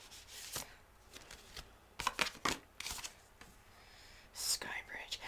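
Playing cards shuffled and riffled by hand in a quiet room, several short papery bursts spread across the moment, soft and close, with faint whispery rustles between them.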